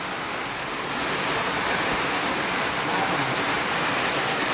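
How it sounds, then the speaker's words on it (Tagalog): Heavy rain pours in a dense, steady, loud hiss that fills the whole stretch without a break. "Lakas ng ulan."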